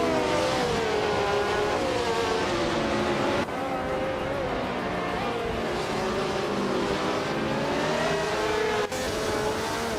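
Race cars in a racing video game roar off the start line, a loud continuous engine drone with shifting revving harmonics that holds steady throughout, briefly dipping twice.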